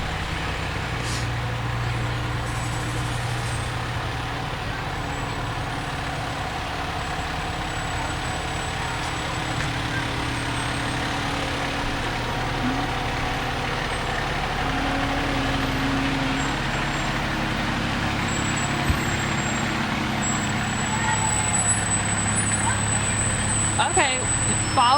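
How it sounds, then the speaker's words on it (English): Fire truck number 21 from Slackwood rolls along in a Memorial Day parade, its engine a steady low rumble and idle throughout, with faint crowd noise and talk in the background. "Truck number 21, fire truck number 21 from Slackwood again, also here to come out and support the squad today."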